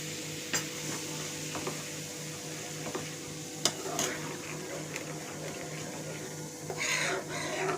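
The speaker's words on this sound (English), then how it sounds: "So the flour is being sauteed here" Flour is sautéed in a pan for Sindhi-style masala roti, giving a soft, steady sizzle with occasional light stirring clicks and scrapes, fairly quiet and with no talking.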